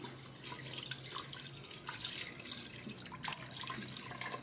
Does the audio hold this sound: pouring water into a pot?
yes